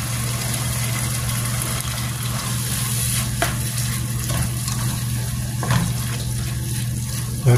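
Sardines cooking with tomatoes in a pan give a continuous sizzle and bubbling, with a few soft clinks of stirring and a steady low hum underneath.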